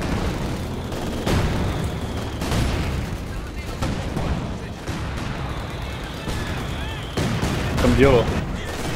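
Repeated booming blasts of cannon fire from a video game, several sharp hits spread across the clip amid busy in-game noise.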